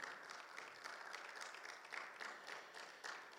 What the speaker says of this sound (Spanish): ¿Alguien dice amén y le da un fuerte aplauso al Señor,